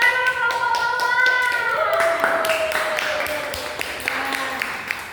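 A group of elementary school children in a classroom claps hands together in a burst of quick, uneven clapping that gradually thins out, with some voices mixed in.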